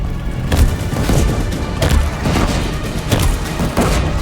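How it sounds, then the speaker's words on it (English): Bombs exploding in the video game Horizon Zero Dawn: The Frozen Wilds, dense low booms and thuds that pile up in several bursts, loud and close, with no talk. "Let's just throw some bombs at you."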